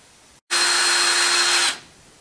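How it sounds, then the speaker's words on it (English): A power drill with a 1/8-inch bit bores a pilot hole for a bike seat-post trailer hitch, one steady high whine lasting about a second, close and loud, with a quick start and a winding-down tail. "I'm just going to take an 1/8-inch drill bit and drill a pilot hole first on each side"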